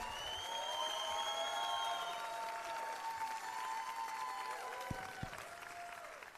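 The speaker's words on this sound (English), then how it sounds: "big round of applause to Leonor Betancourt Loureiro" An audience at a film festival's closing ceremony claps and cheers for a film director, a warm, full burst of applause that slowly fades toward the end.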